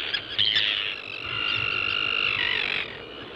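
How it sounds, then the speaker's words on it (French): A tern on the Mingan islands gives a sustained, harsh, grating call, loud and near, with a shorter cry just before it. "La sterne est plus belliqueuse que son cousin le goéland."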